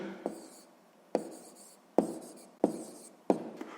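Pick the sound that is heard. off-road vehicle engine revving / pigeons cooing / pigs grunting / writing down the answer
writing down the answer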